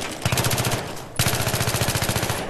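A P90 with a laser sight fired from the hip in Battlefield 3 rattles out two long, rapid, loud bursts, separated by a brief pause.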